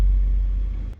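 Deep bass from a subwoofer mounted in a car trunk, a steady low rumble that fills the cabin for a second before cutting off.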